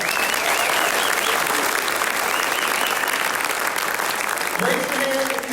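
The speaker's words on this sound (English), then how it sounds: "Give them a round of applause." An audience applauds at a school winter choral concert, dense steady clapping filling the hall throughout with scattered cheers, and a voice over the sound system emerging near the end.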